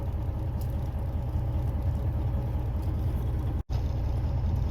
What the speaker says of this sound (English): This particular truck is a Freightliner 10-speed